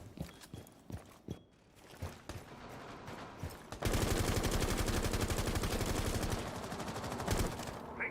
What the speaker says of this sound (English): Dark's going to be mag dumping into the soft wall